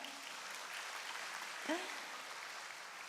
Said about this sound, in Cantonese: 我覺得你哋嘅掌聲真係冇停喎